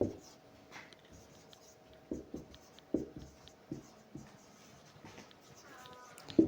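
Pen or marker writing on paper or a board while working through a Class 9 rational numbers maths exercise, with scattered soft scratching taps and strokes, faint and close, alone without talk.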